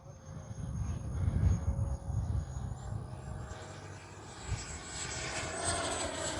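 An 80mm ducted-fan RC model A-6 jet's steady engine whine and rumble as it flies past at a distance, rising and falling slightly, with no voices.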